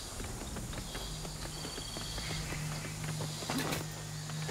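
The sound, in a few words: footsteps in the video game Dawn of Defiance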